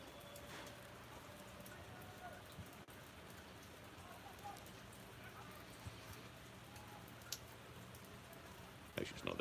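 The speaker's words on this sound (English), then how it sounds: "It's very close to 2 inches of rain today so far." Heavy storm rain pours steadily and close by throughout, a dense continuous patter on surfaces with scattered drop clicks and a brief louder burst at the very end.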